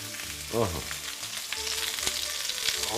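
Layered pork belly, meat and fat together, fries half-cooked in a pan with a loud, crackling sizzle and occasional sharp pops, close by and without talk.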